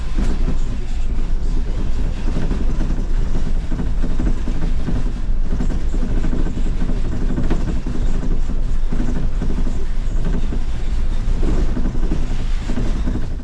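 A bus rolls along steadily with a loose panel at the back rattling, the rumble and clatter continuous and fairly loud throughout.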